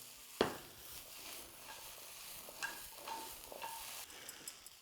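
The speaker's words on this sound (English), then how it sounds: "when red pepper is being shallow fried or stir fried" Red pepper stir frying in a wok for a Szechuan dish, a faint, soft sizzle with an opening sharp clack of a utensil and a few lighter taps and scrapes, quiet and close, no talking.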